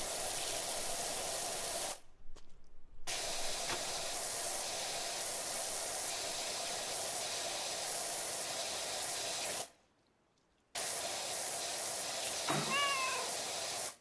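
A house cat meows near the end, a short rising and falling call over the steady loud hiss of a pressure washer spraying in PowerWash Simulator 2 gameplay.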